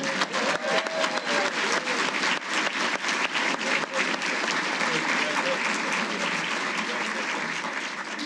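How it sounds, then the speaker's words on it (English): An audience at an agency annual awards ceremony gives a sustained round of applause, dense clapping filling the hall for several seconds before slowly tapering off. "Let's give them a special round of applause."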